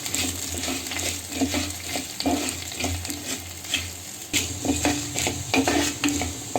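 Coriander seeds roasting over a medium flame in a pan with a steady dry sizzle, while a spoon scrapes and stirs at an uneven rhythm, close and clear with no talking.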